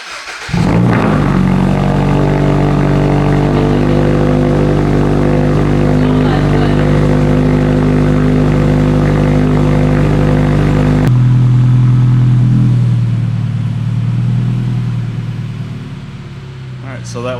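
Cold start of a Toyota GR86/Subaru BRZ with a Tomei Expreme Ti titanium exhaust: a loud, steady, deep droning idle that holds high, then drops to a lower, quieter rumble partway through, with speech heard over it.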